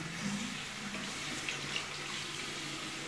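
Water running from a tap in a steady, moderately faint hiss that continues without a break, with no voices.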